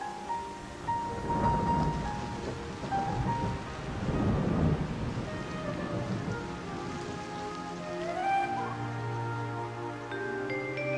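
Rain falls steadily during an afternoon thunderstorm on the western prairie, with rolling rumbles of thunder building and fading over about ten seconds and no voices.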